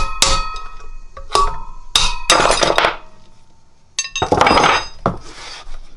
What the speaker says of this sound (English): guess we're tapping it out this way.